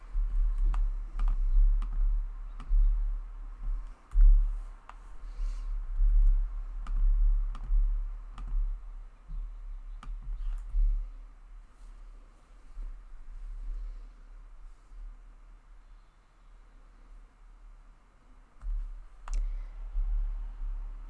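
A computer mouse clicking while text is edited on a website builder, with sharp isolated clicks spaced irregularly across quiet room tone.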